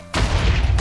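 A sudden deep explosion bursts in after a brief quiet moment in Minecraft, a loud booming roar that rumbles on for the rest of the short moment.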